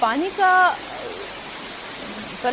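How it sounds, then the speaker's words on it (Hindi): Fast floodwater rushing down a waterlogged street after heavy rain in Kolkata, a continuous broadband roar with voices talking over it at the start and end. "पानी की रफ्तार तो देखिए कितनी तेजी से बहता हुआ आगे जा रहा है"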